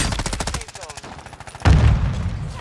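Rapid automatic gunfire in the Call of Duty: Warzone video game, a fast rattling burst of shots followed by a heavier, louder blast close by.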